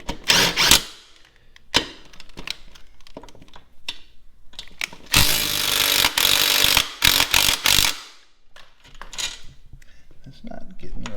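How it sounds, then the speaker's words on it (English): Bolt being fitted back in and tightened while lowering a Honda Shadow motorcycle, with intermittent metallic clicks, clanks and ratcheting bursts, one longer loud stretch of tool noise, close by and separated by quiet gaps. "now we're going to put our bolt back in here"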